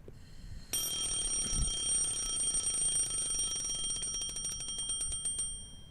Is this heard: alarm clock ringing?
yes